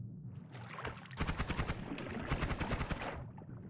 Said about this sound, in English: I can shoot the ice.